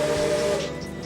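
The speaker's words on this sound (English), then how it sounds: "Is it the dulcet tones of a steam locomotive up the front?" Steady broadband hiss from a steam locomotive at the head of a Tasmanian passenger train, loud and continuous with a faint tonal whine running through it, alone without voices.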